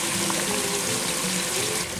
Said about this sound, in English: we're gonna drain and rinse these kidney beans real quick